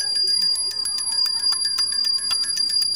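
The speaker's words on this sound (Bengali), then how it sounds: "তো ঘন্টাটা তো বাজাতেই হবে।" A small brass puja bell rung for Gopal during home worship rings in rapid, repeated strikes, bright and close, its metallic tone sustaining continuously under the quick jangling rhythm.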